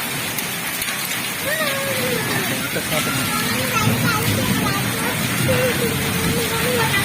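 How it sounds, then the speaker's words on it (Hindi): Hailstones fall hard during a heavy rainstorm, and a dense patter of rain and hail drums on surfaces throughout. Voices can be heard talking and exclaiming over the downpour. "ओले बहुत जोर से लगते हैं"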